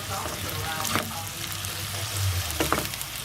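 Pork stock boiling in a pot for binagoongan with fermented shrimp paste, giving a steady bubbling, sizzling hiss with occasional louder pops, close and continuous with no talk.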